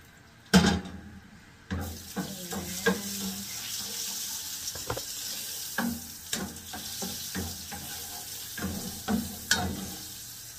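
Butter frying in olive oil in a pan for buttered crab: a steady sizzle with intermittent clinks and stirring taps nearby.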